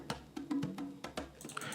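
Amapiano percussion loop of crisp shakers, clicks and log-drum-like hits in a steady syncopated groove, moderately loud, with no talking.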